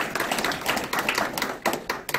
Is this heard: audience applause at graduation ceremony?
yes